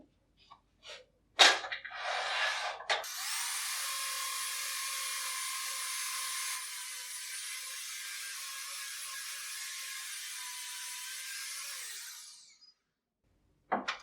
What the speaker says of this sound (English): we'll just sand that, quick little sand